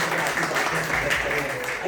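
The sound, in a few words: audience applause in church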